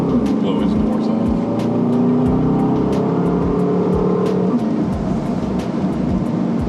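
An Aston Martin DBX 707 engine revs and pulls hard, its pitch rising steadily, heard from inside over road noise.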